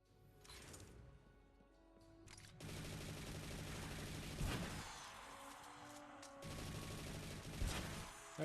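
Rapid machine gun fire rattles in dense sustained bursts in Destiny Rising, loud and close, broken by short pauses between volleys.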